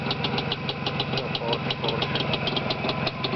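A car engine idles with newly installed exhausts, giving a steady, close rumble with a fast, even ticking pulse throughout, and a voice briefly speaks over it.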